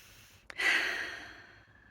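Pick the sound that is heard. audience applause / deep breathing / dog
deep breathing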